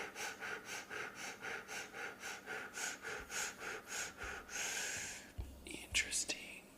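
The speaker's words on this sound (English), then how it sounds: "Fire breathe." Fire-breath breathing: close, forceful breaths through the nose in a fast, steady rhythm of about twenty quick cycles, then a long exhale and a few softer breaths.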